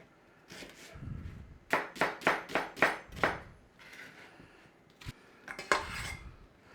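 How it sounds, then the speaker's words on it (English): Onions are diced with a knife on a cutting board in a home kitchen, a quick run of about six sharp, evenly spaced chops followed by a few scattered taps and softer clatter, close and fairly quiet. "just chop up your onions."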